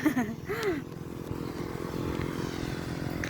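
A motorcycle engine buzzes past nearby, rising and fading, with people chattering and a brief shout over it.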